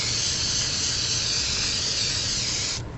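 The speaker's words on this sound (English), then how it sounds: "So here's my spray glue. And what I want to do is I want to put a nice even coat" Spray glue hisses from an aerosol can onto felt in one continuous, close, even spray lasting about three seconds before cutting off.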